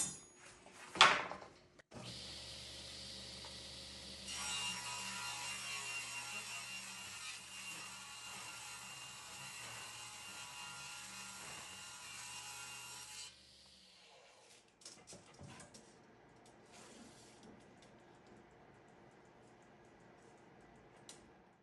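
A saw rips a wooden board lengthwise for interior door casing, a steady rasping cut lasting about ten seconds after a brief knock, then quieter scraping and handling of the wood.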